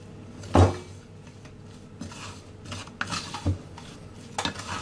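A utensil scrapes and clinks against the sides of a mixing bowl of bread dough, a few sharp knocks and softer scraping strokes spaced out over a quiet background.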